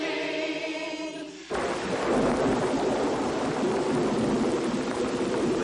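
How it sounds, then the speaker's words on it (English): Heavy rain falls in a continuous dense hiss after an abrupt shift from a quieter passage with music, the downpour loud and steady for the rest of the clip. "It's raining."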